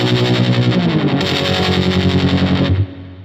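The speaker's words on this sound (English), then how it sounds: "in conjunction with a fuzz or a distortion, and then the depth set really high, so you get helicoptering" Guitar played through a Walrus Audio Monumental tremolo pedal stacked with fuzz, depth set high, giving a loud distorted tone with fast choppy pulsing that cuts off near the end.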